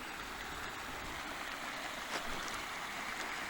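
Running water from a mountain waterfall on a high Uinta backpacking trail makes a steady, faint rushing hiss throughout, with no voices.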